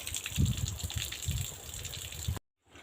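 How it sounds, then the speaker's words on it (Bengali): Water gushes and splashes steadily while something is washed clean, a close, continuous rushing flow with uneven surges that suddenly stops near the end. "এই যে পরিষ্কার জলটা বেরাচ্ছে"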